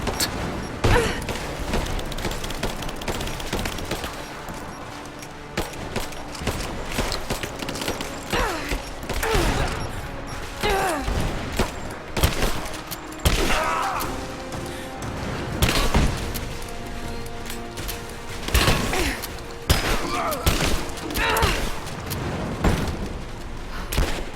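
Bursts of shotgun fire in Rise of the Tomb Raider sound repeatedly amid clanks and game action, with a player talking over parts of it.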